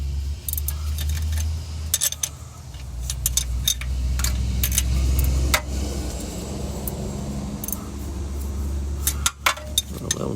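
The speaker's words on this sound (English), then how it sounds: "I'm going to switch over to my ratchet wrench" Ratchet wrench working a motor mount bolt on a 2011-2019 Dodge Charger R/T 5.7L Hemi, with scattered metallic clicks and clinks over a low rumbling background, close and irregular.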